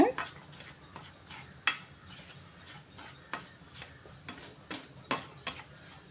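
Semolina roasts in ghee over low flame for jackfruit kesari, a spoon scraping and tapping the pan in irregular strokes, close and fairly quiet with little sizzle.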